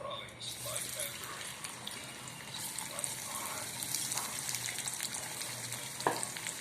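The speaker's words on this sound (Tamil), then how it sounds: "எண்ணெயை மிதமான சூட்டில் வச்சு அதை பொரித்து எடுக்கிறாங்க" Potatoes, capsicum and tomato fry in oil over medium heat with a continuous crackling sizzle close by, occasional stirring scrapes and a brief clank near the end.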